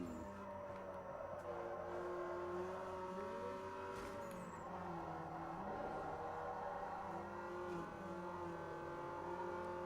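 Toyota Supra engine from the racing game Need for Speed Underground 2, a steady, loud droning motor with rising and falling revs and brief tire squeal, continuous throughout with no talking.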